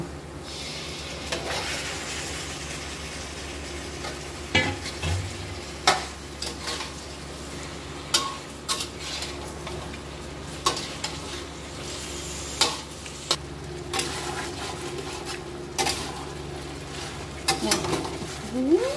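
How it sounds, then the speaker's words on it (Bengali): Chicken meat frying and being stirred in a spiced masala in a kadai, a steady sizzle with repeated scraping and clinking knocks of a spoon against the pan, while a voice talks at times. "মশলাটা আমি কষিয়ে নিয়েছি। এবারে দিয়ে দিচ্ছি মাংস।"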